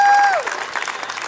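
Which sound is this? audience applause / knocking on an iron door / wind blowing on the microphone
audience applause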